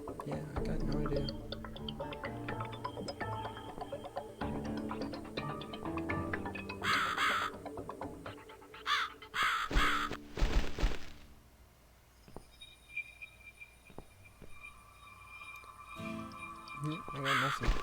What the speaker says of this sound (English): It's probably just a crow.